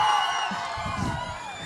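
Crowd at a live Tamil stand-up comedy show cheering and whooping, a broad, steady roar of voices with clapping mixed in that holds at an even level throughout.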